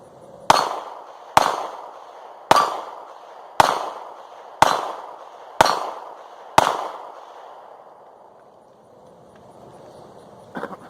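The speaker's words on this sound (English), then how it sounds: "So here goes the Performance Center 40 cal." Seven loud, sharp gunshots from a Smith & Wesson Performance Center Shield .40 caliber pistol, fired in an even, steady rhythm about one per second, each with a ringing decay, followed by a few seconds of quiet.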